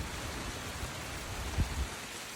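Rain falls steadily at sunset in the aftermath of Hurricane Ian in Placida, Florida, a soft, even hiss of drops with a brief low thump partway through.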